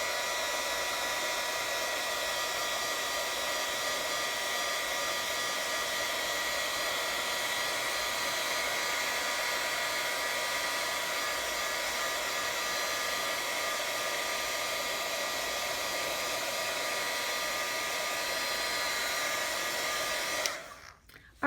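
Heat embossing tool blowing hot air over StazOn ink on a stamped card, a steady, loud, close whir holding even for about twenty seconds before cutting off abruptly.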